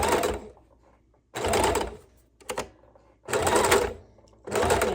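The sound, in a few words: sewing machine stitching across quilt seams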